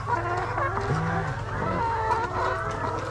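Hens in a school farm coop cluck near a hen ready to lay eggs, with several overlapping cackles and short calls from more than one bird, close by and fairly loud.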